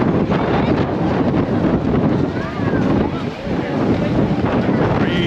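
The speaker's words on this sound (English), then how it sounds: "Breezy, breezy wind." Strong, steady wind buffets an outdoor microphone on a December evening in Palma, Mallorca, a continuous rumbling roar with gusty swells and faint background sounds, no speech.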